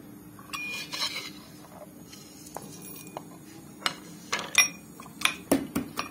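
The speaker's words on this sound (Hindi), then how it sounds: "अब ये बचा है इसको हम कूट कर डालेंगे" Ajwain, black salt and dry ginger are pounded for kadha. Sharp metallic knocks and clinks come close by, sparse at first, then quicker and louder near the end.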